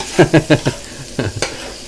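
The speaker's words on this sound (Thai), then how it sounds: "ใช้ไฟแรงผัดได้เลยนะครับ" Squid stir-fried with curry powder in a pan over high heat: quick, close scraping strokes of a spatula in a rhythmic burst of four, a pause, then a few more, over a low sizzle.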